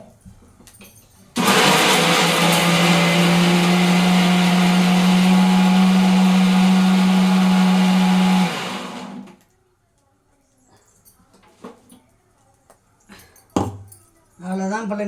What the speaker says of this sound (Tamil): ஆறினோன்னு நம்ம மிக்சியில் அரைச்சி கொஞ்சம் கொஞ்சமாக போட்டு அரைச்சிக்கலாம்